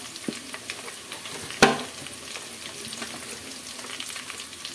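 Bay leaves dropped into hot oil, a brief sharp crackle followed by a soft steady sizzle and light stirring sounds, close up with no talk.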